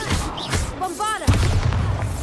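A voice shouts a spell in Hogwarts Legacy on PC, then a single low, heavy Bombarda explosion thuds close by and rumbles briefly.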